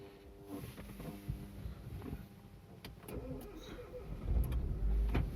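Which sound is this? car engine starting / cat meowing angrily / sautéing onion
car engine starting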